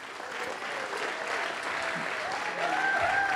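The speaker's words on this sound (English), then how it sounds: "they deserve a huge round of applause" Audience applause at a startup festival session, sustained, even clapping from a sizeable crowd that holds steady and swells slightly toward the end, with faint stray tones over it.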